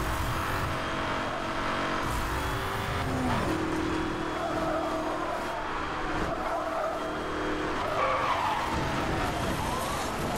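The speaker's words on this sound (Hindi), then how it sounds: "मेरी गाड़ी एक तो बहुत स्लो है" Car engine roaring continuously with repeated tire skids and squeals in a racing video game, steady and loud throughout.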